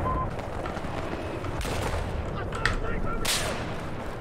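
Gunfire crackles in a battle in the video game Battlefield 4. Dense shots and explosions blend into a loud, continuous rumble, with a couple of sharper cracks near the end.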